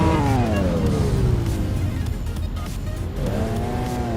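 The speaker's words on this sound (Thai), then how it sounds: "เสียงรถคันอื่นมันยังดัง" Cars in the mobile game Car Parking Multiplayer roar and whine as they drive, engine pitch sweeping down then climbing again, with tire noise and a constant loud drone.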